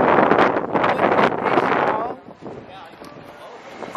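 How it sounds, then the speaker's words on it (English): Strong wind in Curaçao buffets the microphone with loud roaring gusts, then eases to a lower steady rush in the second half. "Of course, it's windy."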